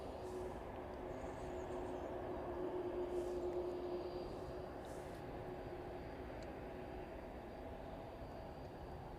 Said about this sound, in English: A quick look at the 767 quickly. This is the service in from JFK this evening, making its way towards its stand for the evening